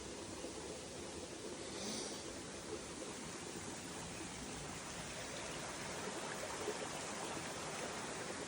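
A stream flowing along the Appalachian Trail, a steady broadband rush of water that stays even and continuous throughout, fairly close and alone with no voices.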